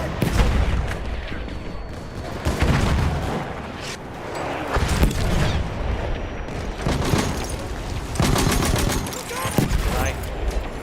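Mortar and gunfire explosions in Battlefield 1 trench warfare, repeated heavy booms and crackling shots at irregular intervals, dense and loud throughout, with people talking over the combat.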